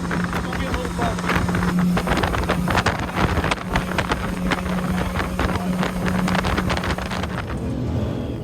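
A tiller-steered outboard fishing boat speeds across a lake, its engine droning steadily under heavy wind buffeting and hull slaps for the whole stretch, with voices shouting over it.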